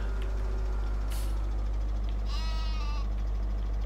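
Sheep bleating in the farming video game Farming Simulator 17, a couple of clear wavering bleats rising over a steady low in-game background hum, moderately near.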